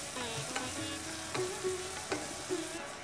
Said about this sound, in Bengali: কুলটাকে দিয়ে এবার ভালো করে কষাতে হবে।